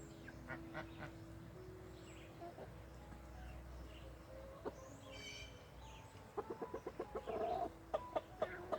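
Backyard homestead chickens cluck softly in a quiet garden, scattered calls early on, then a burst of rapid, rhythmic clucks near the end, fairly faint and close.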